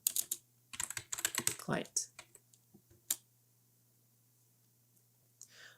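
A computer keyboard clatters with quick bursts of close, crisp keystrokes, then a few scattered taps before it falls quiet.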